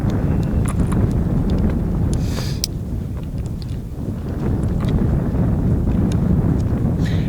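Steady outdoor wind buffets the microphone at a shooting range, a continuous low rumbling roar with brief gusts and faint scattered clicks, no talk over it.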